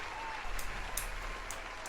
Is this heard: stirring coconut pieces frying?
no